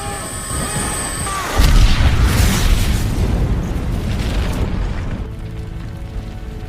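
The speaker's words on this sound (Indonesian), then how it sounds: "memicu api di badan teroris tersebut dan membuatnya meledak" A deep, heavy boom bursts out after a quiet opening, followed by a long rumbling roar that slowly fades.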